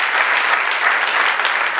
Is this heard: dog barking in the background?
no